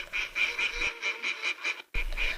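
Ducks quack in a rapid, repeated series, loud and close, with a short pause before the calls pick up again.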